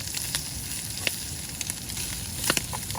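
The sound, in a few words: prawn toast frying in oil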